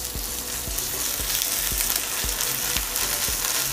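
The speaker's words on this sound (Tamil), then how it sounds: "இஞ்சி பூண்டு விழுது சேர்த்துக்கலாம்" Ginger garlic paste sizzling and frying with onions in a pan for a paneer pollichathu masala, a steady loud hiss throughout with regular soft knocks of a spoon stirring about every half second, no talking.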